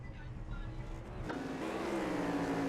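Race car engine in the iRacing sim game, a steady loud drone that rises in pitch partway through as the car revs up, continuous with no talk.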